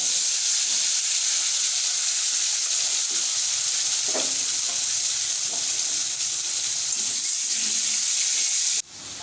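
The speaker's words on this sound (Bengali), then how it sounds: "আলুটা ভেজে নিতে হবে।" Potatoes fry in hot oil in a wok, giving a loud, continuous sizzle and hiss with one faint clink partway through before the sound cuts off.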